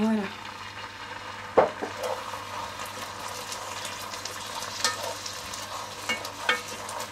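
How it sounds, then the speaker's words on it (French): White wine sizzling in a pan of risotto rice as it is stirred, a soft continuous frying hiss with occasional scraping stirs, close and fairly quiet. "Maintenant, on va ajouter le vin blanc. Et on va remuer jusqu'à ce qu'il n'y ait plus de vin blanc."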